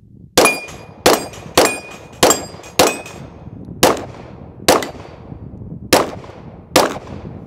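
A Laugo Alien pistol fires at steel plate targets: about nine loud, sharp shots, each followed by a ringing metallic clang. The shots come fast at first and then at a slower, uneven pace, with no talk.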